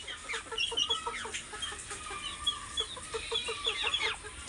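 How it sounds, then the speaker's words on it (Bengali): Police cap chickens, a foreign fowl breed kept with other poultry on a small farm, cluck and chatter in a steady, moderately distant flurry of short calls, with no talk over them. "পুলিশ ক্যাপ মুরগি"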